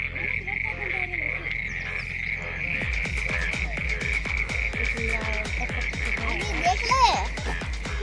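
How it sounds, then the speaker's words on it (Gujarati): Frogs croak in a pond swollen by heavy monsoon rain in Palitana, Bhavnagar, a dense chorus of rapid, throbbing calls over a steady high insect-like drone, growing busier after the first few seconds. "તળાવમાં મગર બોલે છે, અવાજ આવશે"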